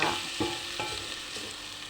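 Chili stir-fries in a pan for Indomie, a close, steady sizzle with soft rhythmic scrapes of the spatula running through the short burst, with no talking.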